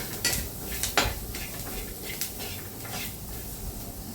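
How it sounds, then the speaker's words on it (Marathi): Onion frying with spice masala in a pan, a spoon scraping and clinking against the metal in several sharp strokes over a soft, quiet sizzle. "अशा प्रकारे हा सगळा कांदा छान असा फ्राय करून घेऊ."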